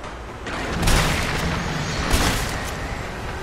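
Gunfire in the video game Resident Evil 3 Remake: a couple of booming shots with dense, noisy rumble throughout, loud and close, with no voices over it.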